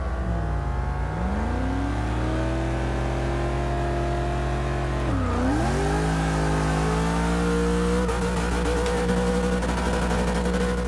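Car engines in a reverse drag race in Forza Motorsport 6, a steady loud drone that dips and climbs through rising revs and gear changes, with several engines layered together and no talking.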